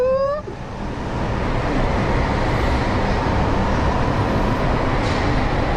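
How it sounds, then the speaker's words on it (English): A racing go kart engine at a competitive league track roars steadily at high revs while the clutch engages, a loud, sustained broadband drone following a brief rising whine at the start. "listen to it open up. You can hear the clutches opening up good."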